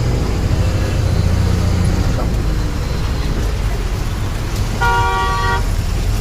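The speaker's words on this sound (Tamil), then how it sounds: "அவ்வளோ டிராஃபிக்கு பாருங்கள்" Dense road traffic with lorry trucks rumbles throughout on a road to Shirdi, India, with a loud car horn blaring near the end and a shorter honk earlier.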